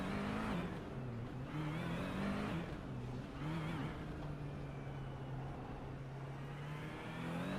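A race car engine burbles at a low, steady idle in first gear with brief revs and rises in pitch, close by and continuous, with no voices.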